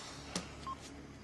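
A mobile phone rings with a couple of short, faint electronic tones against a quiet indoor background, with no talking.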